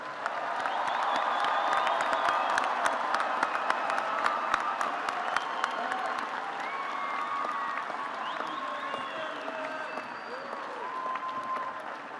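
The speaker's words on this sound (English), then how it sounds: "Let us applaud the candidates from the College of Engineering." A large crowd at a Virginia Tech fall university commencement applauds the engineering graduates, a dense, sustained roll of clapping with scattered cheers, fading slightly toward the end.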